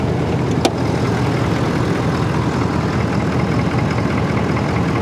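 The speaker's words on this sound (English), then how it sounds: "I just love the sound of a diesel, don't you?" A truck's diesel engine runs steadily at idle nearby, a continuous low rumble throughout with one brief sharp click early on.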